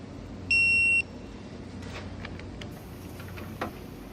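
A torque wrench beeps once in a sustained half-second tone while a steering nut on a 2011-2016 Ford F-250/F-350 is tightened, followed by faint clicks and ratchet ticks close by.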